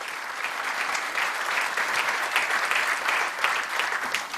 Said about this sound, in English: How about a big round of applause for our scholars?